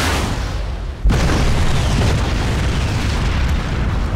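A gas station explodes in Crysis with one sudden loud boom, followed by a long roaring rumble that fills the rest of the moment.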